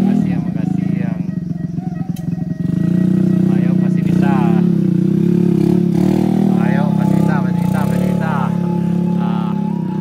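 An underpowered motorcycle engine strains on a steep uphill climb while being pushed, a loud, steady low drone with shifting pitch, close by, as people call out encouragement over it.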